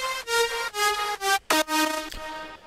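Bright, wide synth lead notes on a dance-pop lead bus, processed with EQ, OTT compression, distortion and reverb, playing a short phrase of sustained chords with a quick pitch drop near the middle and a reverb tail at the end.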